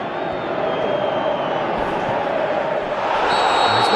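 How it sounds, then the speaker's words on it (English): Steady, loud roar of a stadium crowd cheering in the PES 2017 football video game, Portugal versus Spain, sustained throughout and swelling slightly toward the end. "Crowd appreciates good football all round there."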